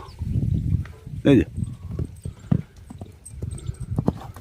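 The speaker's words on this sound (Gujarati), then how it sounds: "રિંગમાં ઉદયપુર પેલેસ લાઈનનો કારા ગુડાવનો લોટકો ઘોડો" A horse walking in a show ring, scattered hoof clip-clops on the ground with one louder snort or bleat-like burst, while someone talks over it throughout.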